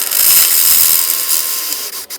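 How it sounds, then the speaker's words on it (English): A drill bores through a rivet hole on a Can-Am Defender half-door mount, a loud close high-pitched whine that holds steady and then stutters briefly as it cuts through. "you just have to drill through here"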